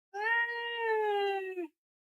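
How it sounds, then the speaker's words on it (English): A pet cat named Atlas gives a single clear meow, close and fairly loud, drawn out for about a second and a half before cutting off into silence, with no talking over it. "Meow again."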